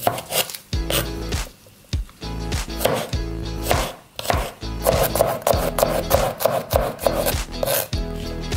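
Knife chopping garlic stalks diagonally on a cutting board for lagman, with steady rapid thuds of the blade hitting the board, close and distinct, broken by a couple of short pauses. No voices.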